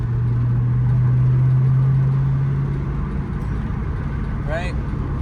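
Manual car engine pulling steadily in third gear, a low sustained drone that holds then eases, with a short rising whine near the end and background cabin noise.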